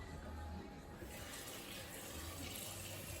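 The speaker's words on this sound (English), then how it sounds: "I'm gonna throw some water in the pan" Tap water pours steadily into a cooking pan at close range, a continuous splashing rush that stays fairly even throughout.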